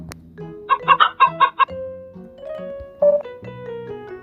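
A chicken clucks in quick bursts, then gives a drawn-out crowing call, close and clear against a quiet background.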